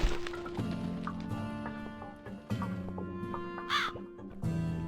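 A crow caws repeatedly in The Cat Lady video game, clear harsh calls spaced over a low, steady ambient drone.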